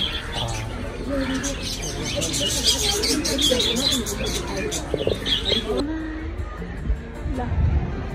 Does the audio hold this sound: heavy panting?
no